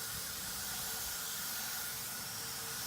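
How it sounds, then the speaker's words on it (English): A spray bottle mists orchid foliage and crowns after potting, giving a steady soft hiss that runs continuously and quietly throughout with no talking. "And we're going to mist, clean up the foliage and crowns."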